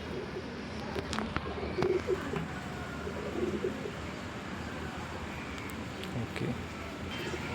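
Breeding pigeons kept with their young coo softly in a loft, the low throaty calls rising a few times against a steady, noisy background hum.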